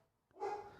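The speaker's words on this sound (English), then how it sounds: "I love how my dogs start barking the moment I start podcasting" A single faint dog bark or yip, heard from a distance in an otherwise quiet indoor room, with no voices.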